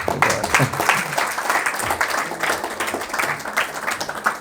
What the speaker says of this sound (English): So let's give an applause for Prabhu.